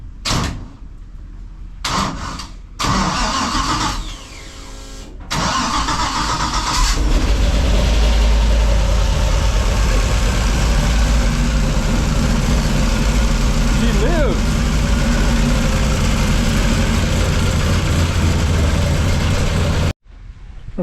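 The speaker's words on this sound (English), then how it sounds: "we're going to press the button and see if she'll start" An LS9-swapped car with an overheating history is cranked by push-button start, catches, and settles into a steady, loud idle that runs on for many seconds after a few short starter bursts.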